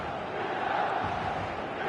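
Stadium crowd in the eFootball video game, a broad steady roar of cheering and chanting filling the space evenly throughout at moderate level, with no single voice standing out.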